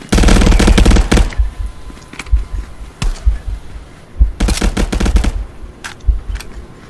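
Loud, close bursts of automatic gunfire in the shooter video game Contractors, coming in two dense rapid volleys with scattered single shots in between, and no talking.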